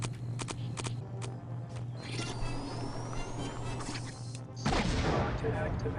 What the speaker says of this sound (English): Remote-controlled rockets.